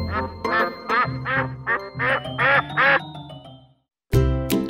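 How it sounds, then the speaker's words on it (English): A duck quacks in a rapid series of loud, close calls, about eight bursts, then a brief silence before another loud quacking burst. "Duck."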